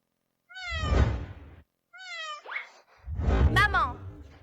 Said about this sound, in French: je vais jouer avec les chats un moment